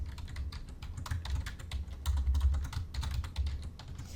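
Someone types rapidly on a computer keyboard, close and clear, with dense irregular clicks of keys and occasional heavier thumps. No talking is heard.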